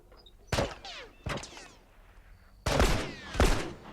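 Gunfire in a video game, with bursts of sharp, loud shots spaced irregularly, two single cracks early and a denser pair of blasts near the end, each trailing off in echo.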